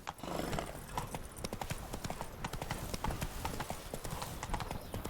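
Horse hooves clip-clop in The Witcher 3: Blood and Wine, a loud, steady run of quick hoofbeats close by that carries on for the whole stretch, with faint talk underneath.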